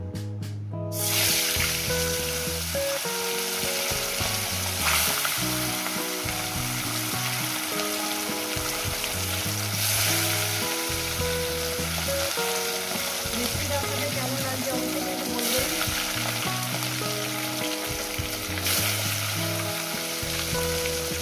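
Small bata fish frying in hot oil in a pan, a loud, continuous crackling sizzle that runs throughout, with background music playing along.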